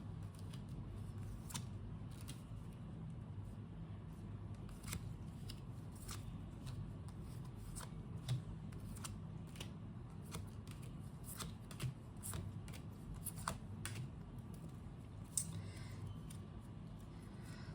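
Tarot cards being shuffled and drawn, a quiet continuous riffle broken by sharp, irregular card snaps and flicks, close and alone throughout.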